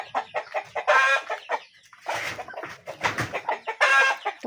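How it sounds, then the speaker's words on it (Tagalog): Chickens cluck in repeated bursts near rice paddies, fairly close, with short pauses between clusters of calls. "Takot ang mga manok sa akin."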